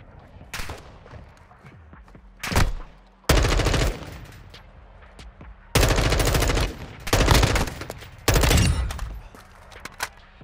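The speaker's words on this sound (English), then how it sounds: "who the heck is shooting at me?" Automatic gunfire in the video game Call of Duty Warzone 2, several loud, close bursts of a few seconds each separated by short quieter gaps, with no talking.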